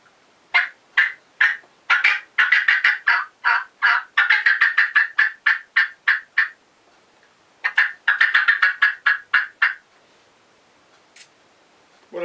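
A diaphragm mouth call imitates a wild turkey, giving bursts of sharp, rapid cutting clucks and yelps in two long irregular runs with a short pause between, loud and close, then a few scattered notes.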